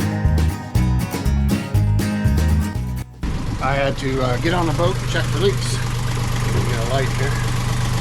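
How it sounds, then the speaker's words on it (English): A boat's steady low engine drone runs throughout after a burst of clattering sounds at the start, with someone speaking briefly over it. "So I got the engine running."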